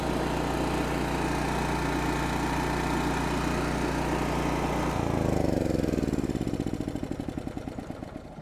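A classic Kawasaki generator engine runs with a steady, droning putter close by, then the note shifts midway as the engine settles into a rougher, slower idle.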